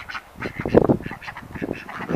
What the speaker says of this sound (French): Canards qui me suivent